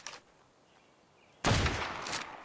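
After a quiet stretch, a sudden loud burst of gunfire from a dinosaur-fighting video game erupts and rumbles on, with a faint shot near the start.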